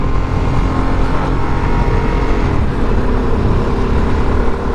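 A 2023 Harley Davidson Sportster S is ridden at 59 mph on the road, with a loud, constant engine drone heavily mixed with rushing wind buffeting close to the rider and no pauses.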